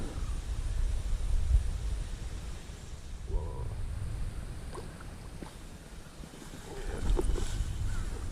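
Wind blows steadily across a riverbank during karimeen fishing, a loud, blustery rush buffeting the microphone throughout with no voices.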